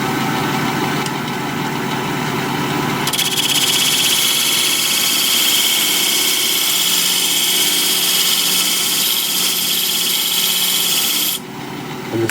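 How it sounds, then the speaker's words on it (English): A wood lathe hums steadily while a bead cutting tool turns a wooden piece, adding a loud, sustained hissing, scraping cut for most of the clip before easing off near the end. "This is what I use, a little bead cutting tool."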